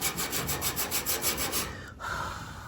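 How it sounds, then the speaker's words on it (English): Rhythmic back-and-forth hand sanding strokes on rusted metal of a 1984 Chevy 1-ton wrecker, close and raspy, about a dozen even strokes before stopping. "it's a lot of hand sanding throughout here to try and get this somewhat flat"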